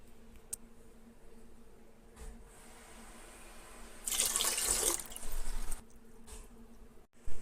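Water pours from a tap into a pan of sugar for syrup, a clear rushing splash for about two seconds after quiet kitchen background, with a brief clatter at the end.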